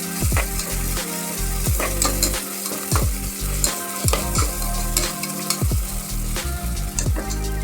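A spoon stirs garlic and ginger paste in a hot frying pan, with steady sizzling broken by repeated scraping strokes in an uneven rhythm.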